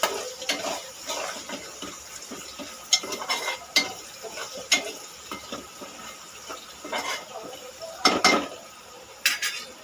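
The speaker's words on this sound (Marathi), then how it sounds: "परतून घेणार आहोत." Spices and paste being sautéed in a pan for a Malvani-style chicken dish, with a steady soft sizzle and repeated scrapes and clinks of a spoon stirring against the pan, no talking.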